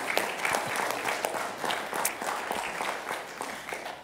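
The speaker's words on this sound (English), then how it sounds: "So let's give a round of applause for our mothers." Congregation applauding mothers during a church service, a steady wash of clapping from a room of people at moderate distance, even and sustained throughout without breaks.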